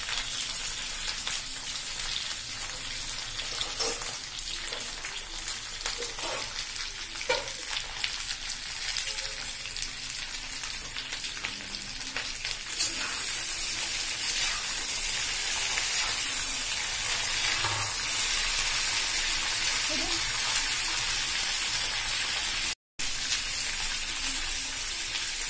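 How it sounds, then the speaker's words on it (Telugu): Tender ivy gourd (dondakaya) fries in butter in a pan, a dense, even crackling sizzle like light rain, close and steady throughout with occasional soft pops and no talk. "ఫ్రై చేసుకోవాలి అన్నమాట బట్టర్ ఫ్రై"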